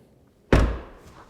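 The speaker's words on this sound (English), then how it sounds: "Let's close the door." A single solid thunk as the door of a Toyota GR Supra (MKV) shuts, close and sharp after a quiet moment, with a brief low-pitched tail.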